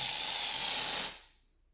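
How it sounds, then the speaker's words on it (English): A Lattafa room spray gives one continuous, close hiss lasting about a second. The burst then cuts off into quiet. "That new Latafa spray."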